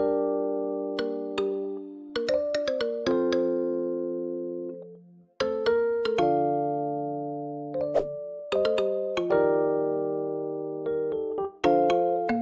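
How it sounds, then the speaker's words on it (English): Two layered marimba one-shots play a trap melody, sharply struck notes ringing over sustained chord tones in a repeating phrase, clean and upfront with no voices. "Then I found this marimba one shot."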